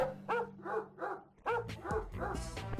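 In the Madagascar Escape 2 Africa video game, a dog barks in a quick series of about eight sharp, close, yappy barks over a low steady background tone.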